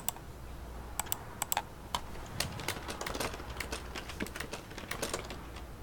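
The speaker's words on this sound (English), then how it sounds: "Wow, I didn't have that bad typing." Computer keyboard typing, an irregular run of sharp clicks and clacks of varying loudness, close and clear with no talk over it.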